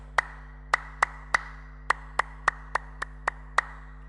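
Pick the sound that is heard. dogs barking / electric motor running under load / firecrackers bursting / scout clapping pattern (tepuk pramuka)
scout clapping pattern (tepuk pramuka)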